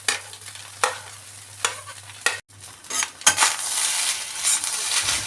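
Egg being stirred into fried rice in a pan over high flame: a few separate spoon scrapes and clinks at first, then a loud, continuous sizzle with busy stirring, close and with no talking.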